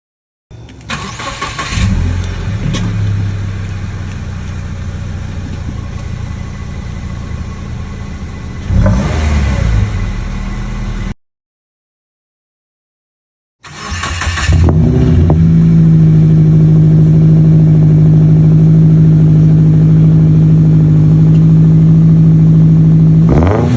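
A 2014 Subaru Forester with a muffler-delete exhaust, loud and close, starts and revs hard, drops out briefly, then settles into a raspy, droning idle with a strong low hum.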